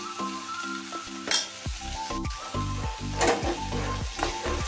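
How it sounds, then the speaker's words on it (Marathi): Chopped cluster beans stir-fry over heat with a sprinkle of ground peanut powder, giving a steady, close sizzle broken by the scrape and clatter of a spoon stirring the pan. "छान असं परतून घ्यायचं आहे"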